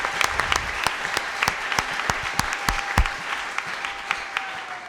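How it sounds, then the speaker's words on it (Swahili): A church congregation claps throughout, a dense, steady applause with sharp individual hand claps standing out, joined by a faint ululation or held tone in the background. "Applaudissons pour notre Dieu."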